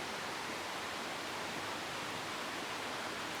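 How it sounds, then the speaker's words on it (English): A babbling brook outdoors gives a soft, even rush of flowing water, faint and unbroken, with no talk over it. "I can hear the babbling brook in the background."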